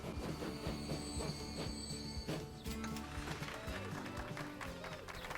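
A train running on a railway in Transport Fever 2, with rolling wheels, rhythmic clatter and squealing tones over a steady rumble, heard at moderate level and continuous throughout.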